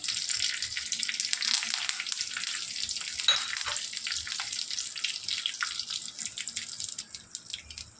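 Black mustard seeds, curry leaves and a few chillies crackle and sizzle in hot oil, a steady close-up spitting and popping that runs the whole time without any talk.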